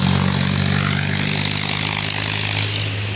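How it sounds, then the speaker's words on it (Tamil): A tractor passes near a village shade shelter, its engine a steady loud low drone with a strong hum that holds throughout and eases only slightly toward the end, with no talk over it. "டிராக்டர் வேறு வருது சத்தம் போட்டுட்டு."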